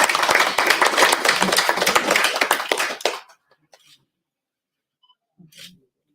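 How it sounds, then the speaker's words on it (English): An audience at a Winter School event applauds loudly with dense, sustained clapping for about three seconds, then it stops abruptly, leaving near silence and a faint sound or two. "So a big round of applause."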